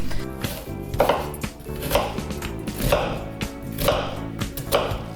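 Knife chopping red onion on a cutting board at a steady rhythm, roughly one firm thunk per second, close and clear with no talking.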